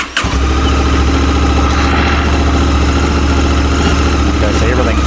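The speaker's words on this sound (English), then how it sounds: "So if we start the bike, we'll start the bike." A 2020 Honda CRF1100 Africa Twin motorcycle engine catches right at the start and then idles in a steady, loud, even rumble close by, with no talk over it.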